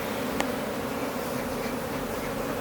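Bees buzz at a beehive in a dense, steady drone, close and continuous, with a sharp brief tick near the start.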